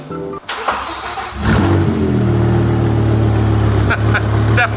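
A straight-piped BMW E60 M5 with its exhaust disconnected is started up close. The starter cranks, then the engine catches with a loud burst and settles into a deep, steady rumbling idle.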